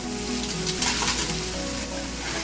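Crispy fried fish sizzles steadily in a hot pan of honey-glazed sauce as it is tossed, a dense continuous frying hiss with stirring scrapes, loud and close.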